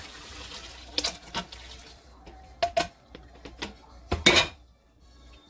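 Crawfish stock poured through a steel strainer in a kitchen, with a few short clanks of metal on pans and splashing liquid between quiet gaps, fairly close.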